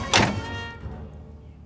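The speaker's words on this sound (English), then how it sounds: "Y'all gotta hear just how good the door sounds now when it closes." A Nissan S14's car door shuts with a single solid thunk up close, its resonance fading quickly into a quiet interior.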